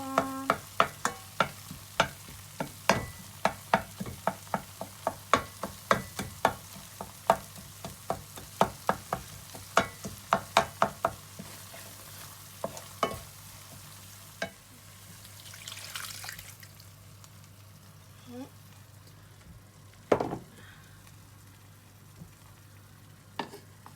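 Fish paste being mashed and stirred with ginger and garlic in water, a series of sharp clacks and taps from a utensil against the pot, fading into softer stirring and a brief splash near the end.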